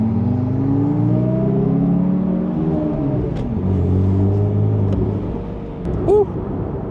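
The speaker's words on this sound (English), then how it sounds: "That car sounds so good. I can hear it from inside this one." A Porsche 911 Turbo engine with a JC Hutch exhaust revs up and down loudly nearby, its pitch rising and falling while a voice speaks over it.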